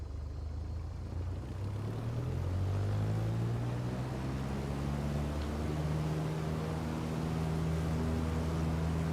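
A Piper Warrior single-engine propeller plane taking off in a flight simulator, its engine droning loud and steady and rising in pitch as it throttles up and gains speed, with no voices.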